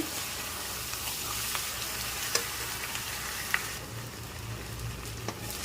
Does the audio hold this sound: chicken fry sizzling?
yes